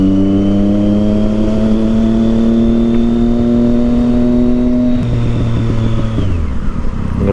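Triumph Street Triple motorcycle with a loud Yoshimura exhaust, revving and holding a steady roaring drone close by, then dropping in pitch as the revs fall away near the end, with no talking.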